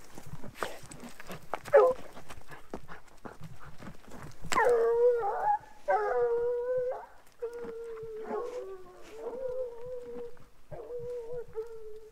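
Hunting dogs trailing through a rough canyon howl and bay in drawn-out, wavering cries, several voices overlapping at moderate distance, with whimpers and rustling before them.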